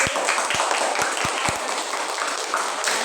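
Audience applause at a school research presentation session, heard as several distinct sharp claps in a steady rhythm over a bright, noisy background, without speech.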